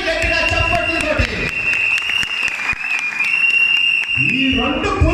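A crowd at a political gathering claps, the applause blending with amplified speech and a sustained ringing tone from the sound system throughout.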